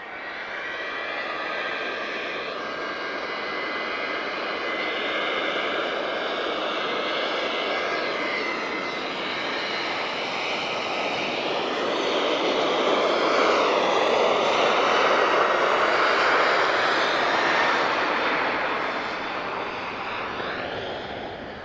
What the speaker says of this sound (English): Unmistakable sound of 2 CF6 engines.